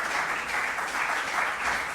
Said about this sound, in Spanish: Si queréis, bueno, un aplauso porque